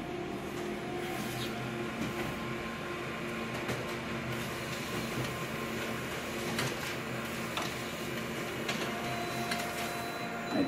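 A copier runs while printing a mirror-image transfer, giving a steady mechanical hum with faint clicks and whirring over about ten seconds, fairly quiet.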